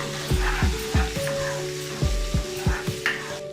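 Ground coriander, cumin and pepper being stirred in a pan of frying green mango chutney, with a steady sizzle broken by repeated knocks of a spoon against the pan and a faint tonal hum underneath.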